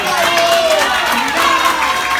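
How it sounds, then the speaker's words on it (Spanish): A crowd applauds and cheers steadily at a PFA Lima Norte amateur fight night as a 24-year-old fighter from Comas is introduced, with broadband clapping and a faint voice over the noise. "Un fuerte aplauso también para él."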